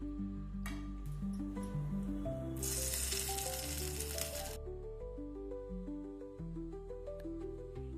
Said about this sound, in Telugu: చిన్న ప్యాన్ పెట్టి 1 టీ స్పూన్ నూనె వేసి నూనె కాగాక కొన్ని ఆవాలు, 2 ఎండుమిర్చి, కాస్త కరివేపాకు వేసి తాలింపుని చట్నీలో వేయండి